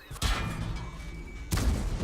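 An M4 tank's cannon fires in a video game battle, two heavy booms about a second apart. Each blast is loud and close, with a rumbling tail that fades between the shots.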